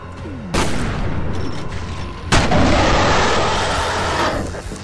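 Laser gun fire in the first-person shooter F.E.A.R. Perseus Mandate, with two loud bursts of blasts and booming impacts over continuous game noise.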